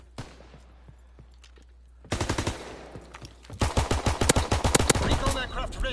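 Gunfire in a World War 2 video game: quiet at first, then sudden bursts of automatic fire that grow into loud, rapid volleys, with voices faintly underneath.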